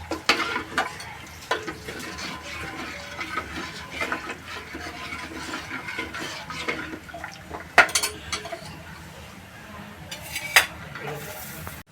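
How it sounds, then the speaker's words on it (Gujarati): A pot of Gujarati kadhi bubbles while a spoon scrapes and clinks against the metal, soft simmering beneath scattered sharp stirring knocks, close and fairly quiet. "હવે કઢી ઉકળી જવાય છે"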